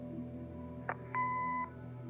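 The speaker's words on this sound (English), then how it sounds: "Leave a message after the beep." In the Kathy Rain video game, an answering machine gives a short click followed by a single steady electronic beep lasting about half a second over a low background hum.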